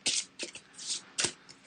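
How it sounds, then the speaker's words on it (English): A deck of game cards is riffle-shuffled at close range, giving four quick, crisp bursts of flicking card edges separated by short pauses, with no talking. "Give them a good shuffle."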